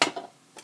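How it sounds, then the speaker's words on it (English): Soya sauce-coated fried rice with carrot scraped and stirred around a pan, a couple of short clinking utensil strokes against the metal, close and fairly soft. "And we stir around."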